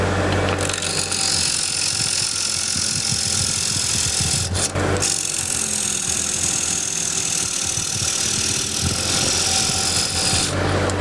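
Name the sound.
scraper cutting wood on a lathe, turning a tray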